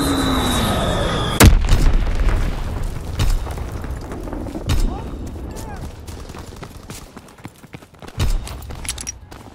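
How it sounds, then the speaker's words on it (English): Fritz-X guided bomb exploding in the Call of Duty: WWII video game, a sudden loud close blast followed by scattered thuds and rumbling impacts, with voices heard over the aftermath. "Dropping Fritz-X bomb."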